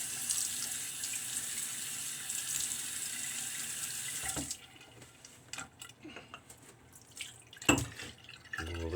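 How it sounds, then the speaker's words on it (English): A bathroom tap runs steadily into a sink, then cuts off, leaving splashes and drips as hands wet a face before a wet shave. "Let me go ahead and wet my face and get some lather going."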